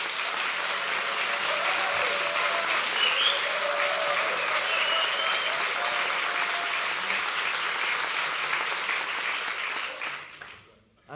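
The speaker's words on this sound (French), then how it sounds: "Applaudissements." Sustained applause from an audience at a startup pitch competition voting for a contestant, a dense steady roar of many clapping hands lasting about ten seconds before cutting off abruptly.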